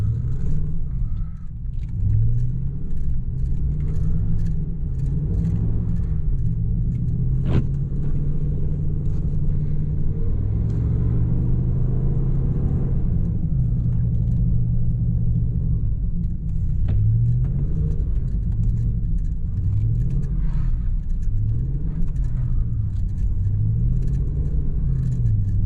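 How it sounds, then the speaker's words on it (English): A Ram pickup truck drifting with stability control switched off, its engine a loud continuous rumble with wavering revs rising and falling throughout, close and unbroken for the whole stretch. "So we're gonna drift all the way out of here."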